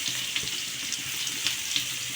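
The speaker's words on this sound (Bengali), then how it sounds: "আলু পেঁয়াজ ভাজা হয়ে গেছে" Diced potato and onion fry with a cumin and bay leaf tempering in a pan, giving a steady bright sizzle with small crackling pops and no voices.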